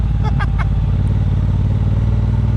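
A 2018 Triumph Bobber Black 1200 ridden on the road, its engine a loud close steady throb with a few brief rising revs early on, under wind rush.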